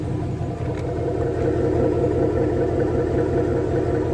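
A Ford Mustang 5.0 V8 with a Flowmaster exhaust idles nearby, giving a steady, low, rumbling growl with no one talking.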